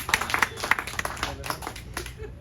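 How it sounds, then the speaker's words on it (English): Comedy club audience in Santa Barbara clapping for themselves, a dense spatter of hand claps with scattered cheers running steadily for a couple of seconds at moderate loudness. "give yourselves a round of applause"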